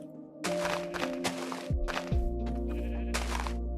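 Sheep in a hardcore survival building game bleat repeatedly in short, nasal calls, fairly close, over a steady low hum and a few soft thuds.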